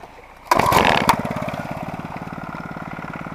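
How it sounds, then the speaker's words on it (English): A small gas engine on a water pump used for gold prospecting starts abruptly with a loud rev and then settles into a steady, rapid chugging idle close by. "Oh, pump on."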